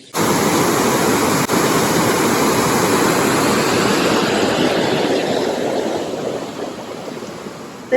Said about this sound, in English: Look at the power of this water.